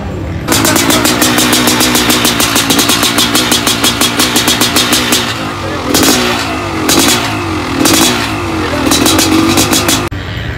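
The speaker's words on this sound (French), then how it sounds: "Il est venu le temps de démarrer la 500." A 500 cc racing motorcycle engine fires up and revs hard and loud, with a fast pulsing rhythm that rises and falls through repeated throttle blips close by.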